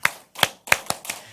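An audience at a church anniversary seminar claps in unison in a rhythmic listening-clap pattern: two spaced claps followed by three quicker ones, crisp and close with no talk.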